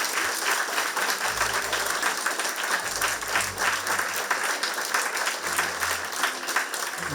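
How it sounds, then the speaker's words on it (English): Sustained applause from a large audience fills the room, steady and loud throughout, with no voices standing out. "And most of all, let's give a big warm round of applause to Dato Seri CHEAH."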